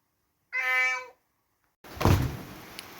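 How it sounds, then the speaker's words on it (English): A cat gives one loud, clear meow up close, followed after a pause by a dull thump and some rustling. "Non-stop meowing all day, all night."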